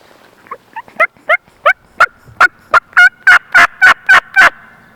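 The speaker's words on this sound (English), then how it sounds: "birds gobbling." Wild turkeys gobbling in Michigan woods, a run of about a dozen gobbles that start faint and distant, then grow loud and close in a steady, rapid rhythm, with no talking.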